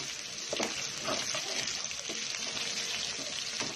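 A paste is stirred into browned onion, garlic and ginger in a hot pan, giving a steady sizzle and frying hiss with occasional spoon scrapes and soft stirring knocks, close and continuous.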